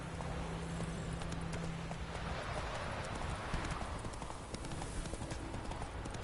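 Hooves of the horse Roach clip-clop steadily in The Witcher 3, a quick, even trotting rhythm that sounds close and fairly faint, with a brief low tone near the start.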